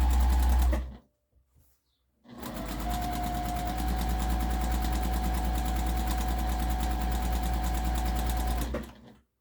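A sewing machine stitching a harvesting apron runs in a loud, rapid mechanical chatter, stops for about a second and a half, then restarts and runs steadily for several seconds before halting again.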